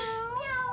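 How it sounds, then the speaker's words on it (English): A cat meows indoors, a single drawn-out, wavering cry that rises and falls with a slight caterwauling edge, close and clear with no talk over it. "There's a kitty cat in the room."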